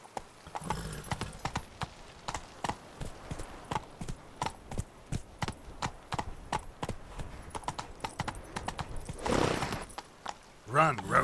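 Roach, the horse in The Witcher 3: Wild Hunt, galloping with rapid, regular hoof clip-clops, a snort or whinny near the end, and a voice speaking briefly over the hoofbeats.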